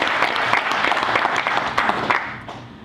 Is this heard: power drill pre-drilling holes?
no